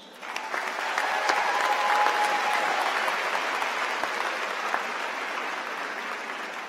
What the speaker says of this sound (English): Please join me in welcoming with a warm eagle applause